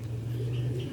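Pigeons, red-spotted birds kept in a coop, give a low, soft coo that hums steadily close by, with faint background noise and no talk.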